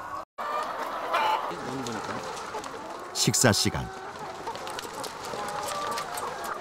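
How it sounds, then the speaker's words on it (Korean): Caged hens on a large commercial farm cluck in a crowded house, their calls mixed into steady barn noise with a louder burst midway while a voice speaks briefly over them. "케이지 안에서는 한 칸에 보통 2~3마리의 닭이 함께 생활한다."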